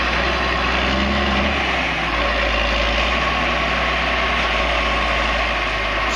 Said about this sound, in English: Thinking she's hearing the backhoe and not me.